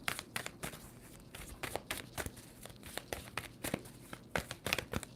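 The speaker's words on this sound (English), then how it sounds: "Two more shuffles for Aquarius." Rapid crisp riffling and flicking of a tarot card deck being shuffled, repeated bursts in quick succession, close and fairly quiet.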